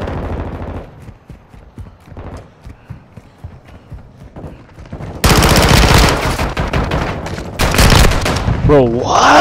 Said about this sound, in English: That's literally a shotgun